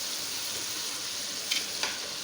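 Ginger garlic paste hits hot oil with frying chicken in a karahi, giving a steady broadband sizzle with two brief scraping stirs near the end, close and with no voices.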